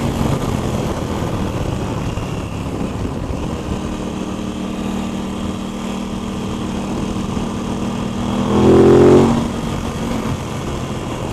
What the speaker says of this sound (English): I do think the exhaust sounds nice.